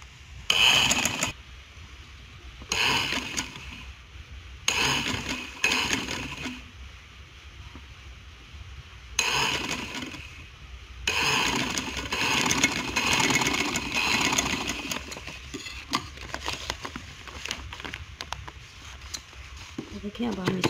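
A sewing machine stitches a shoulder-square kurti in repeated whirring bursts, with pauses between runs, while someone talks over and between the stitching.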